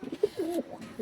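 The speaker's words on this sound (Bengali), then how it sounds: "এই যে পায়রাটা ছাড়লাম, এটা একটা দেশি পায়রা হবে" A domestic country pigeon coos close by, with a few soft, throaty bursts and one longer warbling coo in a short, quiet stretch.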